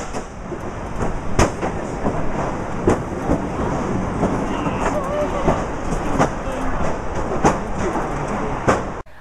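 A train to Katoomba in Australia's Blue Mountains rumbles along with rhythmic clickety-clack of wheels over rail joints, loud and close, with occasional sharper clanks.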